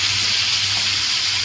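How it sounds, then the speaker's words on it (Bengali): Cut banana stem, pumpkin and young jackfruit frying in a pan, giving a steady, close, broadband hiss and sizzle that continues unbroken without any talk. "এবার থোড়, কুমড়ো আর একটু এঁচোড় কেটে রেখেছিলাম, এটা একটু ভাজা ভাজা করে ডালে দিয়ে দেবো"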